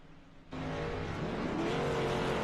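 A race car with repaired damage pulls out of the pits, its engine noise rising sharply and then holding a loud, steady roar, with no talk.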